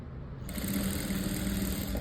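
A sewing machine stitches thread piping onto canvas, starting abruptly and running as a steady, close mechanical whir with fast needle pulses for about two seconds.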